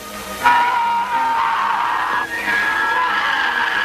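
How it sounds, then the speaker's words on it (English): Japanese officer candidates in a yelling class shout loud, drawn-out cries that overlap in a sustained chorus, harsh and strident, with a sharp onset and brief dips as voices renew. "And this class in yelling, to prepare a man for giving commands and to try scaring the hell out of the enemy."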